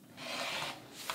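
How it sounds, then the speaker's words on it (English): A rotary cutter trims paper pattern sheets along a ruler, making a soft, steady rubbing rasp that lasts about a second. A faint click follows at the end. "I'm going to use my rotary cutter and a ruler, and I'm going to trim the top and the right side."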